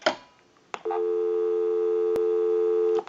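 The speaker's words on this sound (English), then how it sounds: "We'll call my number, and it'll be busy." A short burst of noise, then a steady, loud, continuous busy signal on a Western Electric 554 rotary telephone droning on for about two seconds, with a brief click partway through.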